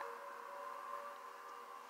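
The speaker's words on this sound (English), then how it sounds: "The siren's going off at my place." A civil defense siren wails outside during a tornado threat, a steady sustained tone sounding distant and muffled, continuous throughout with no voices.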